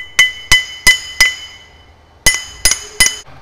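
Sharp metallic hammer strikes on a drill bit stuck in a part, four evenly spaced blows, a pause, then three more, each with a bright clinking ring that fades quickly.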